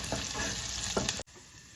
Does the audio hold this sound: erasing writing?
no